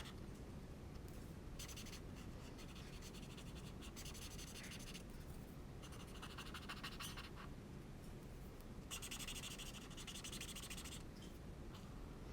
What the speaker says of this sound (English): Now let's just color in the rest of the frog.